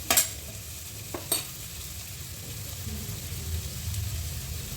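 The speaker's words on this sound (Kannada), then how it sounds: "ಎಣ್ಣೆಲಿ ಫ್ರೈ ಮಾಡ್ಕೊಳ್ಳೋಣ" Onions and coriander leaves frying in hot oil in a pan, a steady soft sizzle with a few sharp scraping stirs near the start, no voices.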